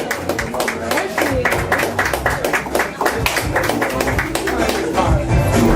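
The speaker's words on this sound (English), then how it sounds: "We can clap harder than that" An audience at an open mic poetry night in a café claps in quick, uneven rhythm, with sharp close handclaps and voices talking over them.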